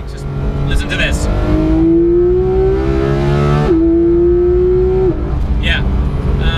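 A Porsche 991 GT3 engine revs hard and climbs in pitch through the gears, with a sharp shift breaking the rising tone midway and another upshift before it drops off, loud and close.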